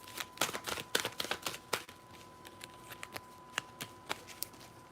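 Tarot cards riffled and shuffled close by, a busy run of crisp flicking and slapping snaps that thins into scattered single card taps as a few cards are drawn.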